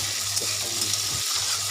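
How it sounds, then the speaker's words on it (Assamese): Ginger garlic paste stirred in a hot pan, giving a steady sizzle with soft scraping strokes of a spoon over a low hum, close and continuous throughout. "ইয়াত এতিয়া আদা নহৰু পেষ্টখিনি দি দিলোঁ। এইখিনি অকণমান আৰু লৰাই দিম।"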